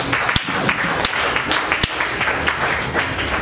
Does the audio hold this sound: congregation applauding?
yes